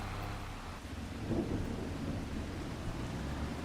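Rain pours steadily while thunder rumbles low and long beneath it, a continuous storm ambience from a farming video game.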